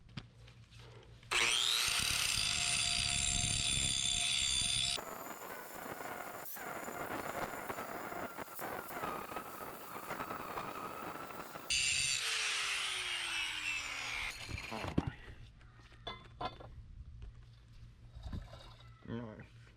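Power tool grinding a bevel into a steel member of a homemade two-car trailer, a loud high-pitched whine in two bursts broken by quieter shop noise and scraping.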